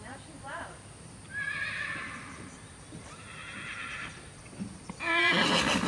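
Excited horses whinny and neigh on a farm during a busy morning, several loud calls rising around the middle and one more near the end, with faint hoof clatter and a voice in the background.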